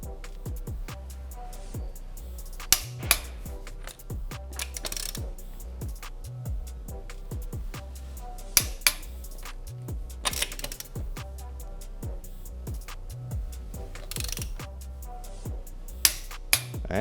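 A wrench clicking while lug nuts are tightened on a Rivian R1T / R1S wheel, with small sharp ratcheting clicks and taps in an irregular rhythm, close up and fairly quiet, with a few louder knocks.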